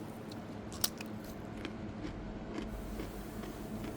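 Someone bites and chews crunchy hybrid cucumbers at a taste test: a sharp crisp bite, then soft, moist crunching and squishing at close range, fairly quiet and with no talking.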